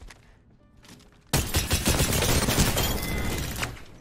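Dense burst of automatic gunfire in PUBG on PS4 erupts after a quiet opening second, a loud rattling volley sustained for nearly three seconds with thuds mixed in.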